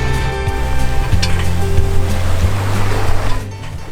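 A sailboat moves through the open ocean on a late afternoon. Waves wash against the hull in a steady loud rush, with a low droning tone underneath.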